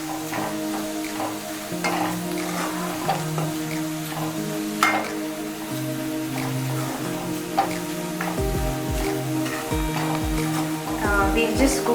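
Masala spices for rajma curry cooking in a pan over a medium to low flame, soft sizzling with stirring and scraping clinks, a voice talking over it.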